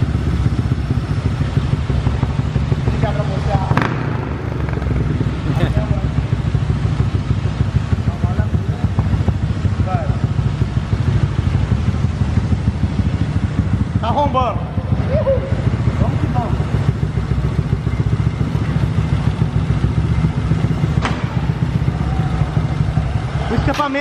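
Honda Titan 160 motorcycle with a 225cc big-bore piston and a loose test exhaust idles and revs nearby, a steady throbbing engine drone with rattling clatter, while people talk over it.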